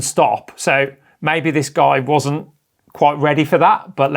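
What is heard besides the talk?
No everyday noises stand out.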